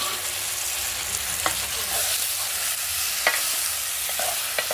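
Ginger garlic paste with tomatoes frying over a wood-fired stove, a steady close hiss of sizzling oil with a few light scraping stirs, no voices.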